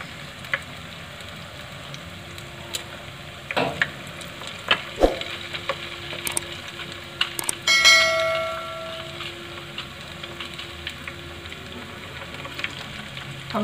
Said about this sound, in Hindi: अब हमारी सारी बॉल्स हमने फ्राई करने के लिए डाल दी है।